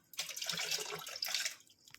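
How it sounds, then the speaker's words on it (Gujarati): About a glass of water is poured into thick cooked dal, giving a quiet, steady splashing pour that lasts a couple of seconds. "હવે આપણે પાણી નાખશું એમાં"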